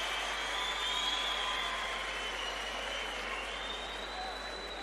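Sustained crowd applause fills a basketball arena during a FIBA U18 European Championship third-place game between Slovenia and Serbia, a steady broad wash of clapping and crowd noise with no clear voices.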